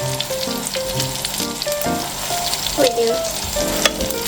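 Imitation crab and scrambled eggs fry in a hot pan with Cajun-style seasoning, a loud, close sizzle broken by scraping stirs, with a brief spoken remark over it.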